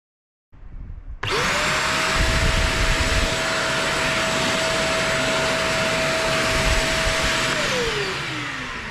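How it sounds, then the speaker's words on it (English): A PowerPac PPV1300 wet vacuum cleaner switches on with a rising whine and settles into a loud, steady high-pitched motor roar for several seconds, then spins down near the end. "Let's test the suction."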